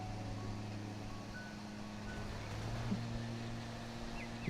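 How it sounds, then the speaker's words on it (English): An ice cream truck outside during lawn mowing play, heard as a faint repeating melodic chime over a steady low engine drone and tonal hum, with no talk. "Is that the freaking ice cream truck outside?"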